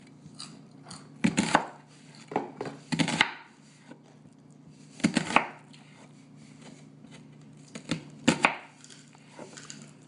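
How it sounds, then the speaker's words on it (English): Knife chopping onions on a cutting board for Thanksgiving stuffing, several bursts of quick, crisp chops separated by pauses, close and clear with no talk. "I'm not very good at chopping the onions"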